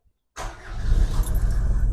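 After a moment of silence, the diesel engine of a Mercedes 190D cranks and catches, settling into a close, rough idle.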